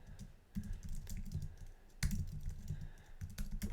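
Code being typed on a computer keyboard in a Python lesson, with quick bursts of close, crisp key clicks, brief pauses between runs and no talking.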